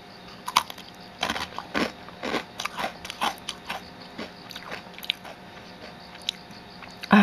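Close-up crunchy bites and chewing of a Soyjoy berry soy snack bar, a series of crisp snaps spaced irregularly, fairly quiet with no talking.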